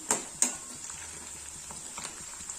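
Cabbage pakoda frying in hot oil gives a faint, steady crackling sizzle, broken by a couple of sharp clinks near the start and small scattered ticks throughout.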